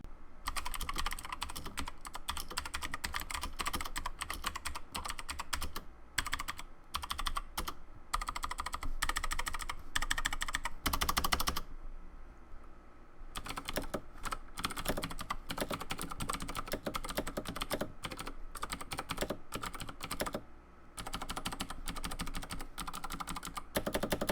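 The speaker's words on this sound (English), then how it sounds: "Here's a sound test for you guys, comparing these switches to the similar Razer green switches." Rapid, clicky typing on a mechanical keyboard, close up, in bursts separated by brief pauses.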